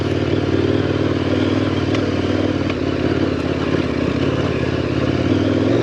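A KTM 1090 Adventure motorcycle is ridden at a steady pace, giving a loud, continuous engine drone with rattling and scraping from the bike and terrain throughout.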